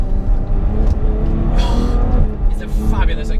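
A Ferrari's engine rumbles and swells through gear changes on rough roads, a steady low drone that rises and dips beneath someone talking continuously over it.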